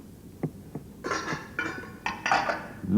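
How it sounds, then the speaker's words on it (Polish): Metal pot lids clattering and clanking together in a few irregular bursts after two soft knocks, close by, with no voices. "Pokrywki, oczywiście. Mama zakrywa garnki pokrywkami, prawda?"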